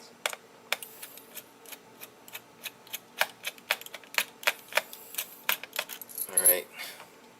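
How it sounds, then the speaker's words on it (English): Small laptop screws on a Lenovo ThinkPad X230 being worked loose with a precision screwdriver, giving a run of sharp, irregular metallic ticks and clicks, close and fairly quiet, with a brief rustle near the end. "Unscrew these 2 things and pop it out"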